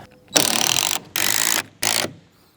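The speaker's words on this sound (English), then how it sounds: "impact guns really save the day because you don't have to put hardly any force on the tool at all to drive these screws in" An impact gun driving screws into furring strips on a house exterior fires three loud, close rattling bursts of about half a second each, separated by short pauses.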